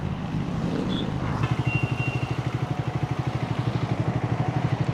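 A Triumph Scrambler 400X motorcycle rides close by, its single-cylinder engine thumping in a steady rapid pulse that grows louder and more rhythmic partway through, with some clatter.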